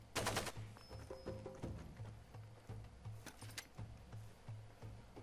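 Rapid automatic gunfire in the video game Far Cry 2, bursts of shots over a repeating low engine or machinery hum, fairly quiet overall.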